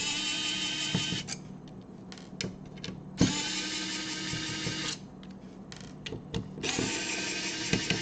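Motorized screwdriver whirring in several short bursts as it backs out screws from the motherboard of an NES Classic console, close and clear with brief pauses between runs.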